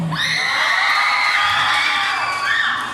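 A large audience at a gay beauty pageant cheers and shouts loudly, high excited voices and whoops blending into a sustained roar.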